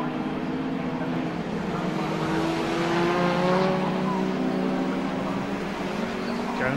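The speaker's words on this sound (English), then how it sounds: "Jones got the inside line there through Paddock Bend" Pickup trucks racing at Brands Hatch circuit through Paddock Bend: loud engines roaring and revving as several trucks pass close, with shifting whining pitches, in continuous race noise.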